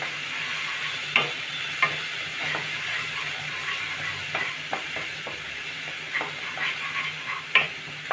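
Spice masala for a rohu fish curry fries over a low gas flame with a soft, steady sizzle as a spoon repeatedly scrapes and clacks against the pan. The stirring is close and comes in uneven strokes, with no voices.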